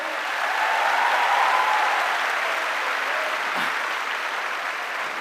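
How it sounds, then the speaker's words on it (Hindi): A large audience gives loud, sustained applause for a speaker's family at a success-day event, a thick even roar of clapping that holds steady and eases slightly near the end. "प्लीज जोरदार ताली हो जाए मेरी फैमिली के लिए"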